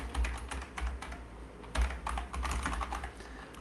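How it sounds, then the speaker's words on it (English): Typing Pascal code on a computer keyboard, a steady run of close, quiet key clicks in an irregular rhythm, heard alone. "let's type in some old-fashioned Pascal"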